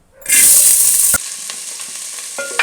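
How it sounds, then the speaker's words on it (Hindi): Vegetables hit hot ghee in a pan with a sudden loud sizzle that drops after a second into a softer steady frying hiss, with a few spatula scrapes and taps. "तो अब मैं इसको इसमें फ्राई करने लगी हूँ सब्जियाँ"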